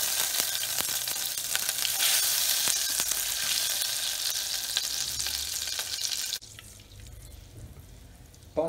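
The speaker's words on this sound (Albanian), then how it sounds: "Edhe shtojmë një gjalpin" Butter melting and sizzling in a pan as a béchamel base, a dense crackling fry held steady and fairly loud before dropping abruptly to a softer simmer.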